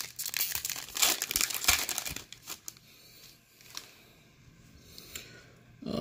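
Foil trading card packs from a baseball blaster box are ripped open, giving loud crinkling and tearing bursts up close for about two seconds, then fading to quieter rustling and small crinkles.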